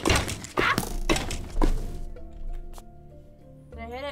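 A skeleton firing arrows in a dark Minecraft roleplay mission: a few dull game thunks and impacts, with a voice talking over the opening seconds and faint tonal game sounds after.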